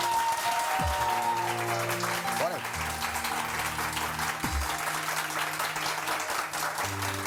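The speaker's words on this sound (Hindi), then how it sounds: "तालियां जोर से होनी चाहिए" Studio audience applause on a Pakistani morning TV show, a steady broadband patter running the whole stretch beneath tonal music, with the host's voice also present.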